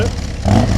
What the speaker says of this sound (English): Throttle blip.